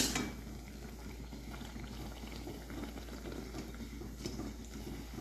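Jowar vada, a North Karnataka sorghum fritter, frying in hot oil with a steady, dense sizzle and bubbling, a sharper clatter at the start and faint utensil taps later.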